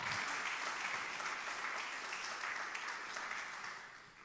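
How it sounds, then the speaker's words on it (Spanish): Congregation applause during a church sermon, a dense sustained wash of clapping at moderate distance that gradually fades toward the end. "Denle un aplauso a la gracia del Señor."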